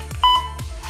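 A workout interval timer gives a single short electronic beep, close and fairly loud, with faint room noise around it.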